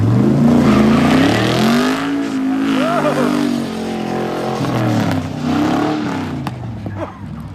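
A 1963 Pontiac Grand Prix engine roars loudly and revs up and down over several seconds, with a spinning front tire. The strained, wavering tone is steady and close.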